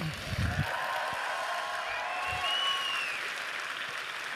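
An audience applauds at a Disneyland Paris conference: steady clapping from a crowd, fairly faint and even throughout, with a voice briefly heard near the start.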